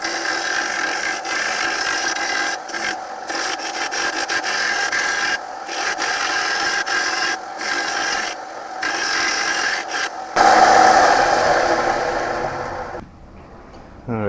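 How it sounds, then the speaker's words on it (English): A lawnmower blade being ground flat to remove big nicks gives a steady, loud abrasive rasp that runs almost continuously, with short breaks, then a harsher surge before it cuts off. "I'm just going across and flattening it out, trying to grind through all those big chunks that are missing out of it, the big nicks"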